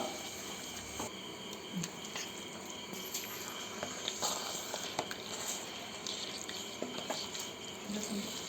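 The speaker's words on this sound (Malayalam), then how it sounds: "ഇതിൻ്റെ അകത്തേക്ക് നമുക്ക് കുറച്ച് ചൂട് വെള്ളം ഒഴിച്ചു കൊടുക്കണം" Hot water is poured into a large cooking pot (uruli) with chicken, a faint steady rushing splash with small drips and clinks, quiet and close.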